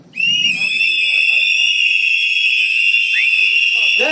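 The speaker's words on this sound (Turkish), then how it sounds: "Düdük çalıyoruz." A loud, shrill whistle blast held steadily for several seconds at a protest outside Tekirdağ Metropolitan Municipality, with other protesters' whistles and faint crowd noise mixed in behind it.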